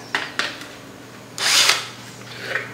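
A Bosch GSB 180 LI cordless impact drill driving a screw gives two short whirring bursts, then a louder, sustained buzzing spin of about a third of a second, followed by a fainter final whir.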